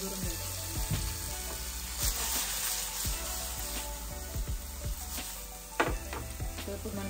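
Fried eggs are tossed back into a hot pan for egg 65 and stir-fried with a steady, close sizzle, broken by periodic clacks and scrapes of a spatula against the pan, with no voices.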